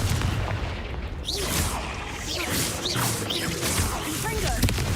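Confringo explosive spell in Hogwarts Legacy: booming blasts and whooshing bursts over a dense, loud battle din, with voices and whistling effects mixed in.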